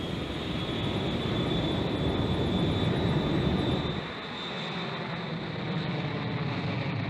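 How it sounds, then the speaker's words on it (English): A Boeing 757 jet airliner on its takeoff roll, a steady loud engine roar with broad rumble that drops slightly in level partway through, continuous and without voices. "On takeoff, the 757 performed perfectly."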